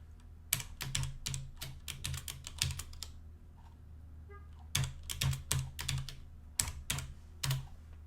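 Bursts of computer keyboard typing as a password is entered, quick clusters of clicking keystrokes close by, separated by short pauses, with no talking.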